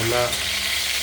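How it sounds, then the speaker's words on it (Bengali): Bay leaf and panch phoron tempering in hot oil give a steady, close hiss of sizzling throughout, with a voice speaking briefly at the start. "এতে আমরা দেব ফোড়ন, তেজপাতা দিয়েছি আর দেব পাঁচ ফোড়ন।"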